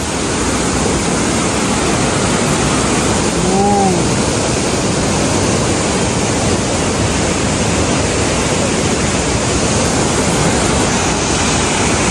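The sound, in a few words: waterfall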